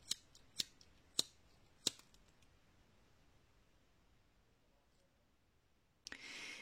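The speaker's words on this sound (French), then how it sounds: "J'ai recoupé une petite bande de ce papier" Scissors snipping a narrow strip of jute paper for a photo frame craft, four sharp close cuts in quick succession, then a brief rustle of the paper.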